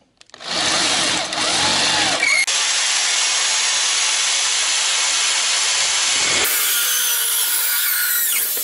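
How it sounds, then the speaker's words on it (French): A drill enlarging a hole in a car body panel for a wiring harness, a loud steady high-pitched whirring grind that stops and restarts, alone. "je vais agrandir le trou pour le passage du faisceau électrique"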